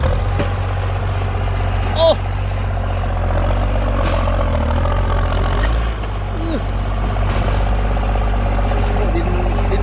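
A New Holland 8340 tractor clearing termite mounds for sugarcane planting, its heavy diesel engine running with a steady low rumble, loud and close, with a brief dip in revs toward the end and voices talking over it.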